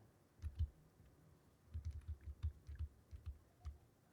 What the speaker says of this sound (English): Pressing all the buttons on the keyboard.